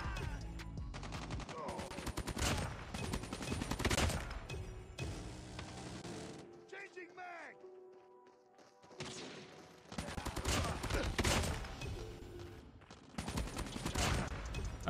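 A gold KN-44 fires in Call of Duty Mobile, with several long sustained bursts of close automatic fire broken by a quieter lull that has brief mechanical sounds.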